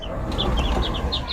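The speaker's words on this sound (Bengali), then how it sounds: "এই যে দেখেন কত বড় মুরগি" Several short, high clucks from a large chicken at a poultry and bird farm, repeating irregularly over a steady background rumble, moderately near.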